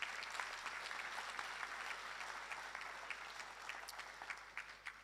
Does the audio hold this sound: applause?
yes